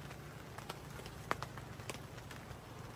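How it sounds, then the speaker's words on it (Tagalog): Rain at a resort campsite falls as a faint, steady hiss with scattered soft drip and patter ticks, quiet and distant without any talk. "Mukhang ulan. Ayan na oh."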